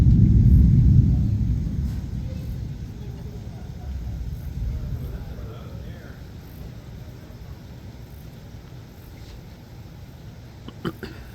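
Deep thunder from an approaching thunderstorm rolls loudly at first, then fades into a low, distant rumble with faint outdoor background noise.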